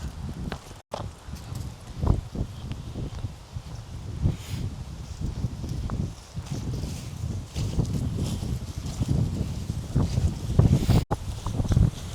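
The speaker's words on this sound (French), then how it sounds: "Il y a un vent de salopard." Gusty wind rumbling against the microphone in uneven bursts, with scattered low thumps and knocks beneath it.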